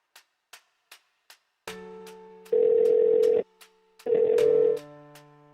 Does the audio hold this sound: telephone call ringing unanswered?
yes